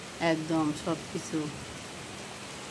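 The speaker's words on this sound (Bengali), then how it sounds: "এই দেখেন প্রচণ্ড বৃষ্টি হচ্ছে, প্রচণ্ড" Heavy rain driven by wind makes a steady, broadband hiss that runs throughout while a person speaks briefly over it in short phrases near the start.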